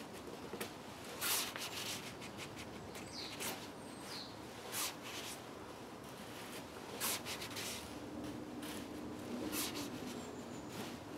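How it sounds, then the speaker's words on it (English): A knife scrapes curls off a wooden stick to make feather sticks for fire lighting, a series of soft close strokes with irregular rhythm, quiet and without talk. "the smoother you make this wood by making these shavings, the easier it will be to carve"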